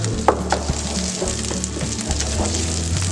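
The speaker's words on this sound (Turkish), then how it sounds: "Birazcık kavurduktan sonra sarımsağımı içine atıyorum arkadaşlar" Tomato paste and garlic fry in melted butter in a pan, a close, steady sizzle with soft crackles and a few brief clinks or stirs near the start.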